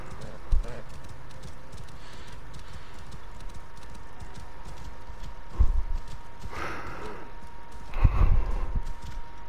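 Horse hooves in Assassin's Creed Origins clip-clop in a few scattered, moderately loud bursts over a faint steady background, with no talking.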